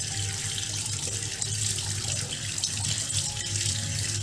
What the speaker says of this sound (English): Now, rinse the hands thoroughly with water